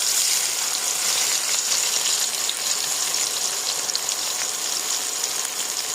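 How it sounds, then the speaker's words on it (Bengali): Chopped onion and green chili frying in oil left from frying eggs, giving a dense, even sizzle that holds loud and steady the whole time with no talk. "আমাদের পেঁয়াজ দেখুন কত সুন্দর ভাজা হয়ে আসতেছে।"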